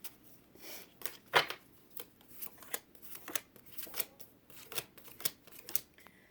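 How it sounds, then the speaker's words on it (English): Tarot cards are shuffled in a series of quick riffling bursts, a dozen or so crisp flutters at an uneven pace, close up and without talk. "I do shuffle these cards"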